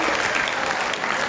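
Loud, dense applause from a live audience at a hypnotism demonstration, a steady wash of clapping filling the whole short moment without any talk.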